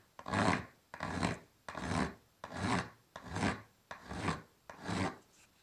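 A hand file rasps against the wooden handle of an Opinel folding knife in seven even, separate strokes, each a close, dry scraping that swells and stops before the next.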